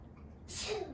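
A single close sneeze bursts out about halfway through, a sudden sharp hiss of breath that trails off over a faint background.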